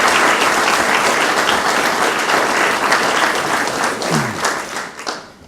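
Applause from the audience at a scholarship foundation awards ceremony, dense and steady for about five seconds before thinning out toward the end.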